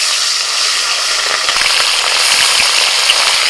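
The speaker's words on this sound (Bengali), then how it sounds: "কড়াইতে তেল দিয়ে দিয়েছিলাম, তেলটা গরম হয়ে গেছে। এবার মাছগুলো একে একে ভেজে নেব।" Khoira fish sizzle and crackle steadily in hot oil in a wok, a loud, dense frying hiss with scattered pops and no talk.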